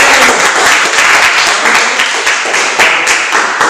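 A classroom of students claps after a group presentation, loud close-up applause with distinct sharp individual claps in an uneven rhythm.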